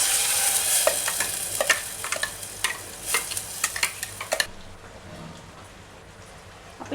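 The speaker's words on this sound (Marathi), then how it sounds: "कारलं फ्राय झालं आहे, त्यामध्ये आपला हा वाटलेला मसाला आहे" Ground masala being stirred into fried stuffed bitter gourd in a pan. A spoon scrapes and clicks in an uneven rhythm with light sizzling for the first few seconds, then it fades to a quieter simmer.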